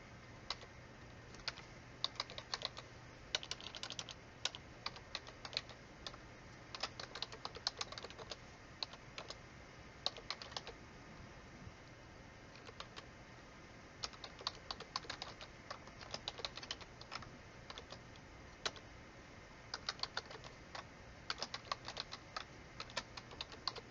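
Steady typing on a computer keyboard, a quick irregular patter of close, fairly quiet key clicks running throughout over a faint low hum, with no voices.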